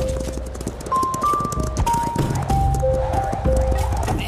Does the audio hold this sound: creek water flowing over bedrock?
no